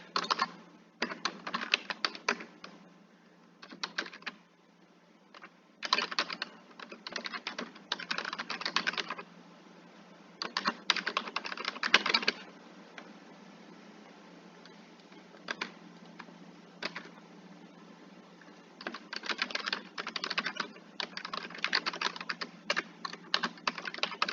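Keys clatter on a computer keyboard in close bursts of rapid typing, broken by short pauses, with no voices.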